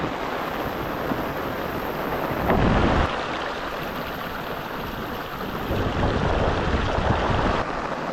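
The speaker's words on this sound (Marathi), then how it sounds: "आता जोराचा पाऊस आला एकदम एकदम जोरात" Heavy monsoon rain pours down in Konkan as a steady, loud wash of noise that swells noticeably twice, with no voices.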